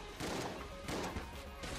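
A shotgun fires in the video game Enter the Gungeon, heard as a dense burst of rapid gunfire pops and crashes. The shots are faint and steady across the short moment.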